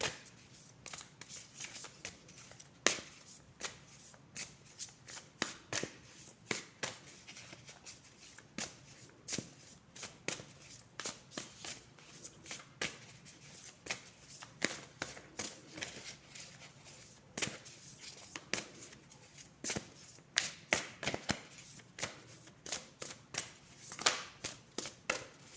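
Tarot cards shuffled steadily by hand for about 25 seconds, a dense run of crisp riffling and flicking bursts with brief pauses, close and fairly quiet, with no voices.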